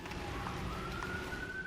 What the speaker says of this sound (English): Lots of sirens tonight.